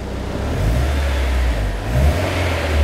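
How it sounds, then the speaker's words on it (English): A Honda S2000 roadster with 80,000 miles idles and revs lightly just after starting, a steady low engine drone that rises and falls in a few gentle swells, close by with no talk. "So it starts like you'd expect a Honda to start"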